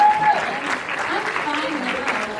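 Audience clapping steadily for Hannah at a mental health panel at VidCon London, a dense continuous applause that holds for a couple of seconds with voices faintly mixed in.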